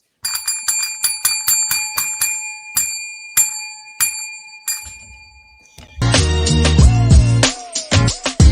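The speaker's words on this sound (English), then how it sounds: "Tim, ring that bell." A small bell dings rapidly over and over, bright and close, then a loud burst of noisy clattering and crashing sounds takes over near the end.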